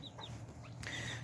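Backyard hens, including a gray hen, and roosters cluck in short, faint calls over a low outdoor hum in a winter garden.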